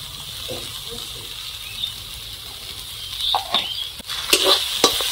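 A stuffing for stuffed ash gourd sautéed with salt and turmeric, giving a steady hissing sizzle, with a few sharp stirring clicks and scrapes toward the end, close and alone.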